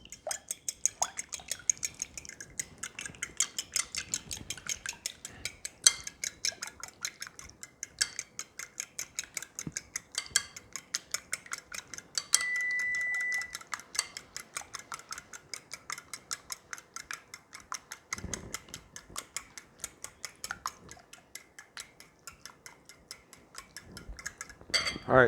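Keto chocolate chip cookie batter with egg stirred in a bowl, a fast steady run of light clinking and scraping taps against the bowl, close and continuous throughout, with no talk.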